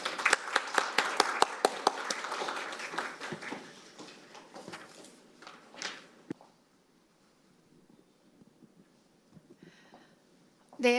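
An audience at a construction-safety policy forum held at the National Assembly claps loudly for a few seconds. The clapping thins into scattered claps, then fades into a quiet room with faint shuffling.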